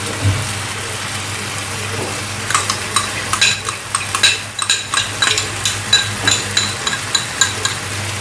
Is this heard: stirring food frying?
yes